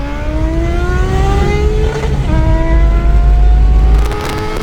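A loud exhaust note from a Triumph TT600 motorcycle with an aftermarket Dominator R exhaust rises in pitch as it accelerates hard through the gears, close up, with no talking.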